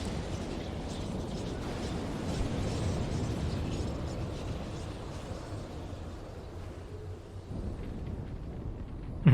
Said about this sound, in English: Big blue explosion.